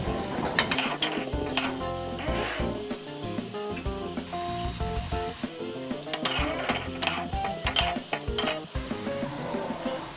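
Bread gulab jamun frying in hot oil, a steady close sizzle with stirring scrapes and occasional clinks of a utensil against the pan.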